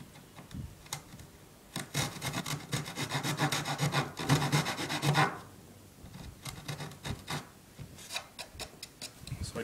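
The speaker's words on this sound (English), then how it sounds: "I'm going to start with a saw and then switch to a chisel." A hand saw cuts at an angle through a wooden brace on a tenor guitar top. Rasping strokes come in close, steady runs, with short pauses between the bursts.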